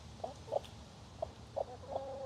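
A broody hen gives soft, short clucks in a few separate bursts, close by, against quiet outdoor background noise.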